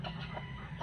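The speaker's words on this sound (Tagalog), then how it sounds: "Ito yung naglilimlim mga kaibigan, no?" A brooding hen and her chicks give soft, repeated low clucks in a farm pen, three brief murmured calls over a steady background hum.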